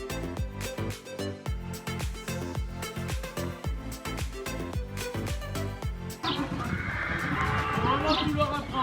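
A horse at an equestrian riding stable whinnies in a series of loud, close calls, followed by rustling and stable noise, while people speak French.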